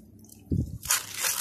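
Two large cups of soaked rice are tipped into a pot of seasoned soup for a vegetable maqluba. A soft low thump is followed by a steady, close, wet rushing splash, with no voices.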